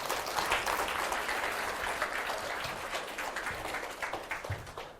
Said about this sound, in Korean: 다시 한번 이순신 장군께 큰 박수 부탁드리겠습니다.